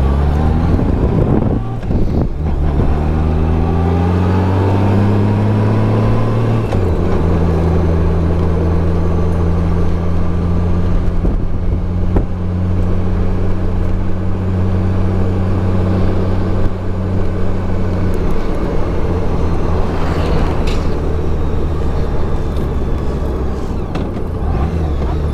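A Honda Goldwing motor trike cruising country roads, its engine holding a steady low drone with harmonic bands that shift as it changes speed, heavy wind buffeting the microphone throughout, no talking.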